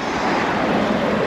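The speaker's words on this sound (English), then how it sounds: "Bit windy" Steady wind roars across the microphone during a Brompton folding-bike ride in South Korea, a continuous broadband rush with no talk.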